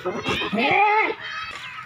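A male goat, one of a lot of breeding goats, gives a single drawn-out bleat up close, with a few short grunting sounds before it.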